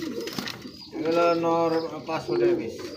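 Racer pigeons, including local Bombay racers, give soft, repeated rolling coos close by at a pigeon sale. Voices murmur intermittently in the background.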